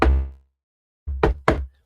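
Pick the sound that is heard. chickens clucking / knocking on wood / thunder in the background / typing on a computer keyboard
knocking on wood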